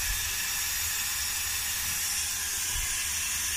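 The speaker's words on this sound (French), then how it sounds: "La vapeur d'eau sort à une très grosse température." Hot water vapour jets out in a steady, loud, broad hiss that continues unbroken without pause, close and alone with no voices.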